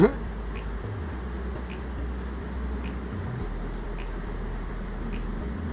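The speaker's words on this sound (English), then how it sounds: "Wonder if that is my swarm up there in that box." A honeybee swarm hums steadily inside a hive box, a continuous close drone with low engine-like rumble underneath and no clear talk.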